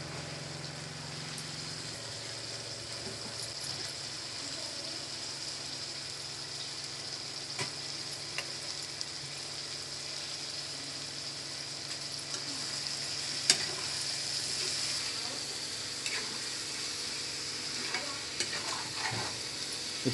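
Brinjals and tomatoes fry with prawns in a pan for an Andhra-style curry, a continuous close hissing sizzle with occasional light clicks and scrapes throughout.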